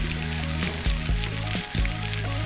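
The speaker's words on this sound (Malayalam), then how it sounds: "അടുത്ത ഒരു സെറ്റ് ചിക്കനും കൂടി നമുക്ക് ഫ്രൈ ചെയ്ത് കൊടുക്കാം" Chicken pieces coated in chili powder fry in hot oil for a Kannur-style fried chicken dum biryani, a steady dense sizzle with crackling bursts throughout, close and loud with no voices.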